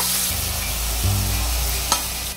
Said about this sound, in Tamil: இப்போ நம்ம நல்லா வதக்கிக்க வேண்டியதான்.